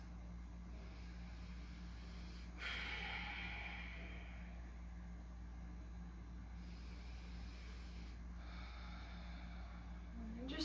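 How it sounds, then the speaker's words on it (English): Slow, steady breathing in and out through the nose during a calm, eyes-closed yoga session, faint and soft, with long airy breaths rising and falling against a quiet background. "we're just inhaling and exhaling through the nose"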